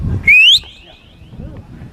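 A short, bright human whistle rises in pitch, then trails off, with low murmuring and background rumble around it.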